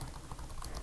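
Typing on a computer keyboard while entering an email address in a mail program; soft, quick key clicks run steadily throughout, fairly faint, with no talking.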